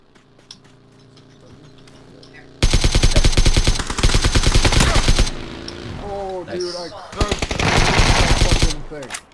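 Heavy automatic gunfire in a video game, aimed at an approaching vehicle: sustained loud rapid-fire bursts with brief gaps, up close and dominating the mix.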